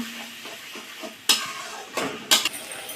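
Ground spice paste with dried chilli is fried and stirred in a pan, a steady sizzle punctuated by a few loud metallic spatula scrapes against the pan, with no voices.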